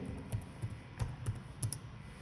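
A command is typed on a computer keyboard, giving five or six soft, evenly spaced key clicks close by in a quiet room.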